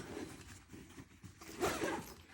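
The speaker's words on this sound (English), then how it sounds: "Zip it up" A bag holding a TPN infusion pump is zipped shut in one steady pull, a soft close zipping rasp that grows slightly louder toward the end in a quiet room.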